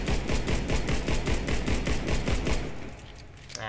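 Rapid automatic bursts of gunfire from a gold CZ 75 Czechmate pistol in the shooter game Warface, loud and close, sharp shots in a steady stream for nearly three seconds before tailing off into quieter ambience.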